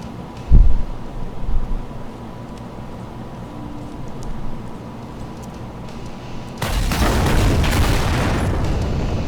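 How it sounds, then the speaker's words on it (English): Nuke launcher rounds in a video game go off together: a heavy boom up front, a quieter lull, then a sustained loud roaring blast wash that fills the last few seconds. "Fired all nuke rounds simultaneously."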